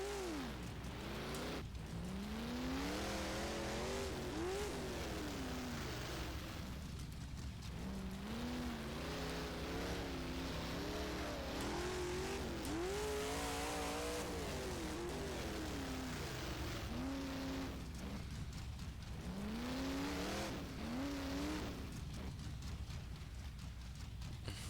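A race car engine in the rFactor 1 dirt mod racing game revs continuously, pitch sweeping up and down in repeated throttle bursts over roughly twenty-five seconds, steady and fairly quiet, with no talk.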